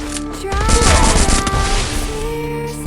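Gunfire in the mobile shooting game Free Fire during an esports match, a quick burst of close shots with a booming impact, overlaid by sustained game tones.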